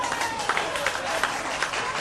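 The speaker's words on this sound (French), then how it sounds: "Applaudissez Frère Hervé, mesdames et messieurs." Audience applauding at a school competition final in Saint-Marc, dense rapid clapping from a crowd, steady throughout with brief louder bursts.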